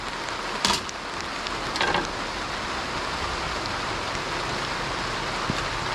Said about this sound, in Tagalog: Narito naman po ang ulan